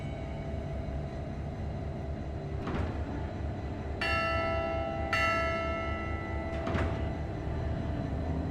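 Repaired bell ringing in the video game WILL: Follow the Light: two clear metallic strikes a second apart ring out with bright, lingering overtones above a steady low ambient hum, framed by softer clanks before and after.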